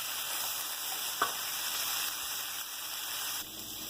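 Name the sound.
brussels sprouts frying and being stirred in a pan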